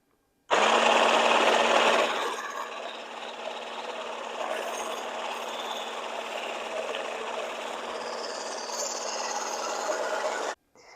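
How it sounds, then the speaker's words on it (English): Egg yolks for eggnog are beaten with a steady, whirring mixer. The sound is loud and close at first, then eases to a continuous even hum for about ten seconds before cutting off abruptly. "And now I'm going to beat my egg yolks until they are light and they kind of get a little bit thick."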